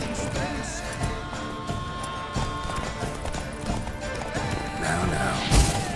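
Hooves of Roach, a horse in The Witcher 3: Wild Hunt, clip-clopping through a busy game scene with music and other noise, a brief whinny-like burst and a crash near the end, plus some voices.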